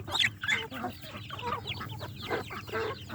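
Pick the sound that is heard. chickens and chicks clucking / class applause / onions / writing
chickens and chicks clucking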